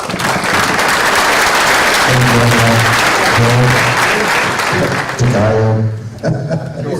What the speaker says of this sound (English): why don't you give the panel a round of applause?